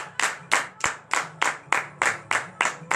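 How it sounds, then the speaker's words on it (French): A church congregation at morning prayer claps in a steady rhythm, around nine loud, even beats in three seconds, with a faint voice underneath. "Donnez de vives acclamations au Seigneur Jésus."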